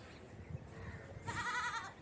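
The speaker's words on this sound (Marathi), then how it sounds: "बकरीला बोलवते पण तिला माझा आवाज नाही आवडला तिने मला प्रतिसाद फक्त एकदाच दिला" On a foggy morning in the Pune countryside, a goat answers a woman's call with a single bleat, moderately distant and faint, after a quiet stretch of low outdoor background noise.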